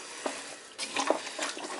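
Zucchini and summer squash stirred with thick chunky salsa and a splash of water in a pot, giving soft wet scraping swishes in a few uneven strokes, quiet and close, with no talking.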